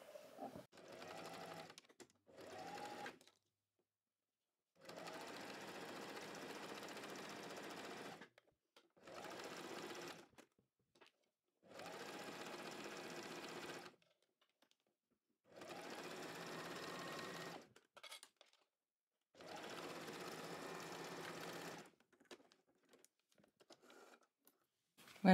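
Sewing machine stitching a seam on a sweatshirt, running in several short, steady bursts of a few seconds each with quiet pauses between, close and fairly soft.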